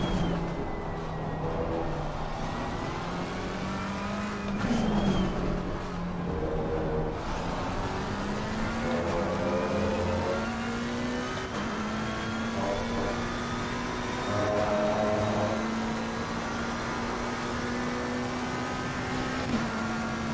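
A race car engine in Assetto Corsa Competizione drones steadily at Silverstone through an endurance race, its pitch rising and falling smoothly through the turns. It stays loud and continuous throughout, with no talk.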